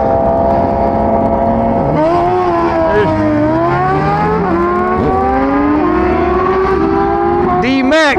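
Turbocharged Suzuki Hayabusa motorcycle launching hard, its engine note climbing steadily through the gears in loud, continuous acceleration with brief dips at each shift and a final sharp rev, close and dominant throughout.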